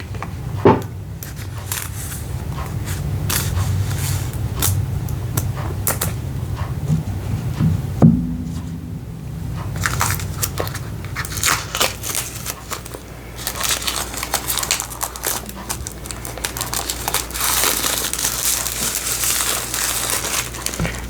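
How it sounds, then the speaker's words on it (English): Plastic wrapping on a mailed package being cut and torn open: steady crinkling and crunching with scattered snaps and rustles, close and fairly loud throughout, with no talking. "It does have some plastic on it, so we're going to go ahead and just cut into that."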